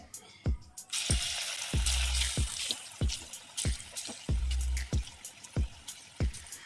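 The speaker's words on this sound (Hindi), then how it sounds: "तो इस तरह से थोड़ा थोड़ा डालते जाएंगे कढ़ाई में। तेल हमारा अच्छे से गर्म हो गया है" Spoonfuls of potato pakora batter dropping into hot oil in a kadai, each landing with a sharp splash followed by steady sizzling, repeated in a quick, uneven rhythm, close and fairly quiet.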